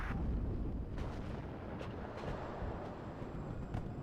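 Distant artillery rumbles and thuds through a dense, continuous battle din in the Cold War strategy game WARNO, with several muffled impacts rolling under a steady low roar.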